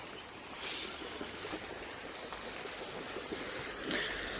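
Irrigation water streams steadily into a furrow on a carrot farm, a continuous close rushing wash with no breaks.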